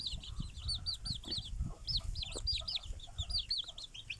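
Chickens cluck repeatedly in a steady, busy chorus, with higher chirps and squawks layered over low background rumble.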